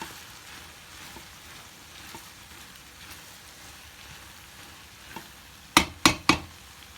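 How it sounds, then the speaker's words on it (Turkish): Peppers and onions fry in a sac pan with a soft, steady sizzle, quiet and close, ending with three sharp knocks or clanks of a utensil against the pan. "Şimdi biberimi de koyuyorum. Şöyle bir çevireceğim biberimi de. Biraz pişireceğim."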